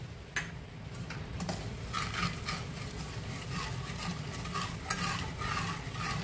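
A spoon scrapes and stirs through a raw mango pickle mix with ground fennel in a pan, giving repeated close clicks and scrapes over a faint sizzle, with no talking.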